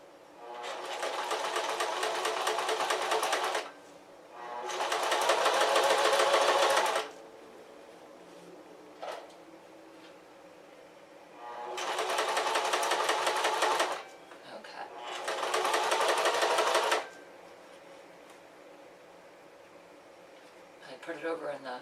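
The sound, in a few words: sewing machine stitching walking shorts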